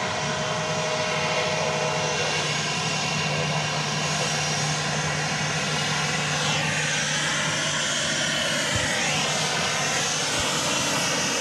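Aircraft engines at Dallas Love Field, where Southwest 737-700 jets operate, a loud continuous roar with a rising and falling whine as a plane moves along the runway at night.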